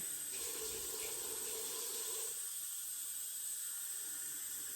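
Tap water runs steadily from a kitchen sink into a pot for breakfast oats, a soft continuous hiss that holds and then thins slightly, with no one speaking.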